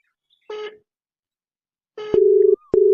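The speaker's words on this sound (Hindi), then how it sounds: "सुनो घंटिया जात है" A telephone line rings after a number is dialed: a brief tone, a pause, then two long, loud, steady ring tones separated by a short gap, close and with no talk.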